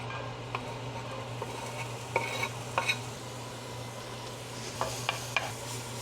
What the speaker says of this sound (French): Huile chaude, oignon.